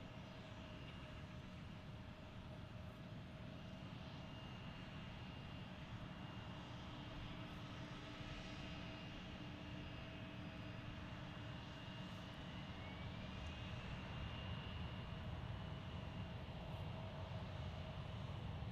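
Jet airliner on final approach to land at Grand Rapids Gerald R. Ford International Airport, a steady distant engine roar with a faint whine that swells slightly toward the end, heard outdoors with no talking.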